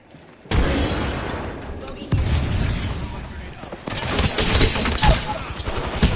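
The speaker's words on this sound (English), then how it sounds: "Grenade out." A grenade detonates in a video game firefight, a heavy boom followed by further bursts and rattling gunfire, while players talk over the chaotic, loud action.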